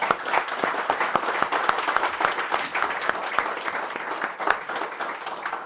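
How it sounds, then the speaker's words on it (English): A church congregation claps its hands in sustained, dense applause, steady and fairly loud throughout, with no talking over it. "I'd like to give a hand clap to all the sisters."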